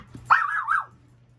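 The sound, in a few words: puppy barking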